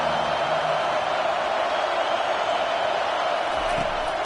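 Steady roar of a college football stadium crowd in a big game between South Carolina and Alabama, a dense wash of cheering that holds at constant loudness with faint voices beneath.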